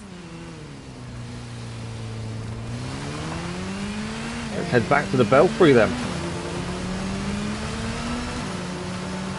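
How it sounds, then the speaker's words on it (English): Batcycle motorbike engine in the video game Gotham Knights on PS5, a steady droning hum that rises and falls with pitch changes and a brief burst of revving, heard under a game character's speech. "The noise of the motorbike is pretty cool"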